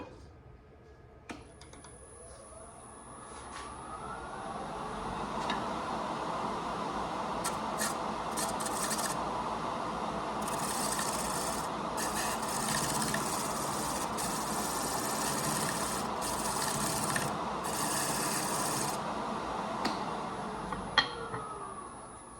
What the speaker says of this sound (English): Now I'm going to taper this end in until we get a fit